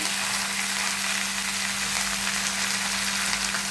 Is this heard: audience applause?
no